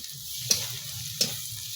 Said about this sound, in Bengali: রসুন আর পেঁয়াজটাকে ভাজা হয়ে গেছে এবার লঙ্কার গুঁড়ি এক চামচ দিয়ে দিলাম